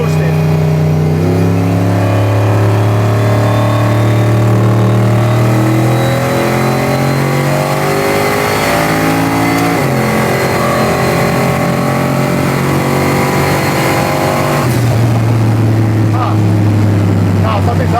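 A turbocharged 427 LSX car engine revs hard while brake boosting, a loud, close, sustained roar that climbs in pitch in stretches and resets twice, continuous throughout.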